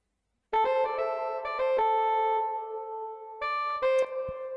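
Another short synthesized alto saxophone phrase from the Purity plugin in FL Studio, with a few quick notes and held tones, played alone and clear for an Afrobeats remake.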